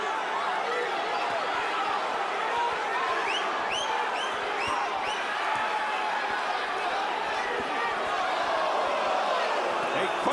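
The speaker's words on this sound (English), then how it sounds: "Crowd reacting on every throw." Packed boxing arena during the 2005 Castillo vs. Corrales fight, crowd noise swelling and rumbling continuously, with scattered shouts and whistles rising above the dense, loud roar.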